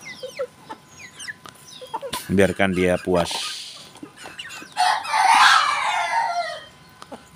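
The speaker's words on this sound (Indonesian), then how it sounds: "Tuh suaranya krukuknya juga." A free-range village game rooster, fed a wet mash, crows once loudly and close, with clucking and low churring around it, while a person speaks briefly nearby.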